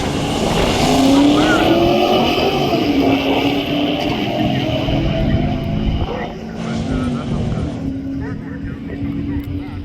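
A 1974 Plymouth Duster makes a quarter-mile drag racing pass, its engine roaring loud and close almost without a break, with voices mixed in.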